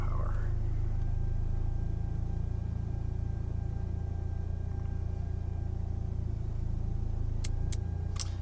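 A 1998 Mitsubishi Eclipse GST idles with its headlights on, a steady low engine rumble and fuel-pump hum running continuously at close range, with a few brief high ticks near the end.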